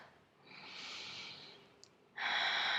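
Steady breathing out during a Pilates stretch, a soft airy exhale swelling and fading over about a second, then a stronger close breath near the end, with no talk.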